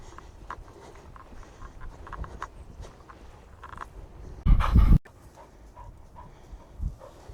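A spaniel pants on a countryside walk in the Cotswolds, with quick soft breaths under outdoor ambience and a short, loud burst of close noise midway.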